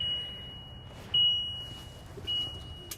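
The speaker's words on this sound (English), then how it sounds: "It is beeping at me right now" Two short electronic warning beeps from a 2024 Winnebago EKKO 22A motorhome sound over a low engine idle, one around the middle and another a second later, steady and high-pitched.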